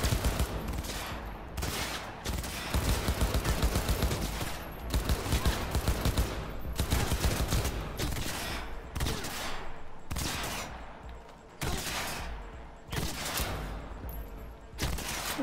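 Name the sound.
gunfire in the video game Cyberpunk 2077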